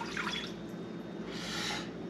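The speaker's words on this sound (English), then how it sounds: "Now I'm going to put in a cup of water." A cup of water poured into an Instant Pot over a trivet, two short splashing bursts of liquid against metal over a faint low hum.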